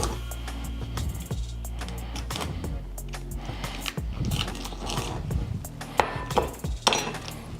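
A knife slices the thick center vein out of a raw collard green leaf on a cutting surface in a home kitchen, giving close, crisp snaps and scraping cuts in an uneven rhythm.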